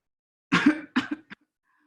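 A short cough burst, two quick hacking coughs and a small final one, close and clear against silence.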